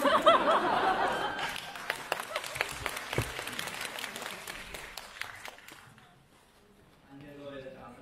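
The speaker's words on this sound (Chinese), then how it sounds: "感谢各位的掌声" An audience at a crosstalk comedy show in Nanjing bursts into loud applause mixed with laughter. The clapping fades over several seconds, and a performer's voice then starts speaking.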